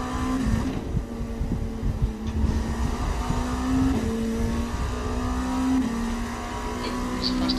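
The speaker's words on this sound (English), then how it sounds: "There's a faster class car approaching." Steady engine drone from a race car on track at Spa during an IMSA session, a sustained tonal hum with slight pitch shifts as the car approaches, moderately loud and continuous with no talk.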